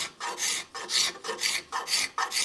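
Hand rasp shaping wood in close, rhythmic strokes: about eight coarse scraping passes with short pauses between, loud and dry with no talking.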